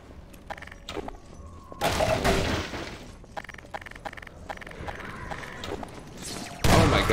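Enemy gunfire in Half-Life 2, scattered sharp shots and short bursts with a couple of louder heavy blasts, fairly close, separated by quieter gaps.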